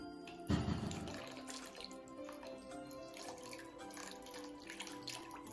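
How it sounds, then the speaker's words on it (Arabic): Hot water poured slowly around yogurt jars: an initial splash, then a steady trickling flow with faint clinks, nearby and without talk. "غادي نكبو الماء على مواتي ديال لي فيغ، الماء سخون ما خصوش يكون طايب"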